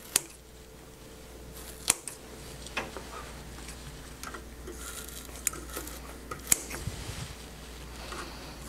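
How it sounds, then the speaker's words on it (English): A print perfect pad being cut to fit a shoe platen for heat press transfers: sparse, close snips and sharp clicks scattered over a quiet, steady background. "cut your print perfect pad to the size of your shoe platen"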